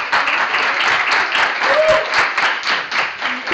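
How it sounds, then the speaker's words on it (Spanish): Audience applause fills a lecture hall, a dense steady wash of clapping throughout, fairly loud and close, with a brief tonal blip partway through. "has oído el aplauso, el estruendo que generaste en la sala"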